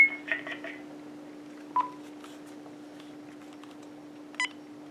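A Uniden EXS2080 900MHz cordless phone sounds a few short dialing tones and beeps, close and clear over a steady low hum.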